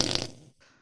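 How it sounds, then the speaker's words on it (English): A short, loud fart sound effect rasps out for about a quarter second, then trails off into quiet. "You have a fart sound effect."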